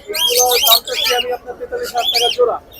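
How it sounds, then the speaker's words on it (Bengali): Dense, loud chirping and tweeting from many small birds close by at a bird market in Mirpur, Dhaka, in rapid overlapping bursts with brief lulls. "মাসাল্লাহ চমৎকার কিছু পাখি নিয়ে আসছেন"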